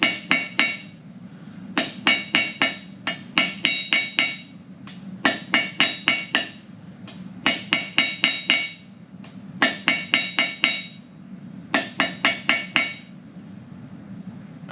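Hammer blows forging a taper on a hot steel leaf, ringing metallic strikes in quick bursts of four to six hits separated by short pauses, over a low steady forge roar.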